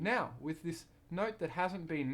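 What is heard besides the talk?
No everyday noises stand out.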